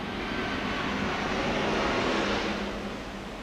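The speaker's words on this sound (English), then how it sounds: "if you can hear that, it was a private jet" A private jet flies overhead, its steady, broad engine roar holding loud and even before easing slightly toward the end, with no talking.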